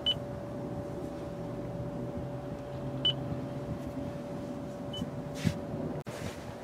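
Short electronic voice-command prompt beeps sound a few times over a steady engine-like hum inside a 2014 Toyota RAV4 EV, faint and spaced a few seconds apart.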